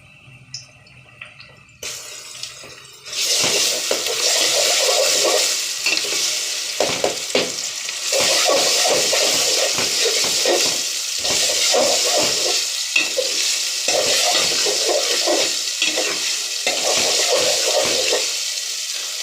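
Flour and garlic fry in a pan with a loud, dense, continuous sizzle that starts after a quiet opening. The sizzle is close and steady, broken by repeated stirring scrapes and clatters, and no one speaks.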